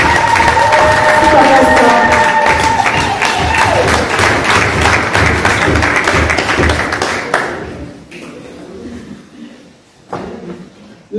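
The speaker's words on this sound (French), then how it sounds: "Et qui je demande des applaudissements." An audience applauds and cheers for Papa Rachidi Oscar at an evening event: a dense, loud wash of clapping and crowd noise that holds for about seven seconds, then falls away quickly into quieter murmurs.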